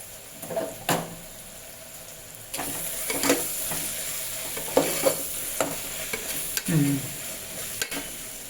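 Vegetable biryani masala fries in oil in a pan while a spoon stirs it, giving soft sizzling under a scatter of scraping and clinking strokes at irregular intervals.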